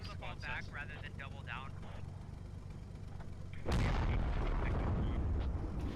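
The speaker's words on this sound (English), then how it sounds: "I heard another big explosion" A big explosion in the Arma Ops mod bursts in abruptly partway through, loud and broadband, following a stretch of quieter battlefield ambience with distant gunfire.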